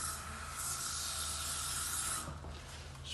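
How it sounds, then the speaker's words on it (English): Aerosol spray of Kaboom bathroom foamer cleaner being applied to a urinal drain housing, a steady loud broadband hiss lasting about two seconds before tapering off, heard alone. "Now I use this Kaboom bathroom foamer"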